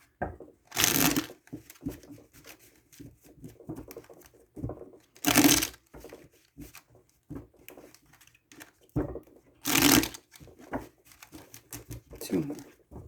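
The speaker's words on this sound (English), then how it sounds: "Hang on, I'm going to shuffle a little bit more." Tarot cards riffle in three short bursts of crisp fluttering, close up, between stretches of quiet talking and light handling noises.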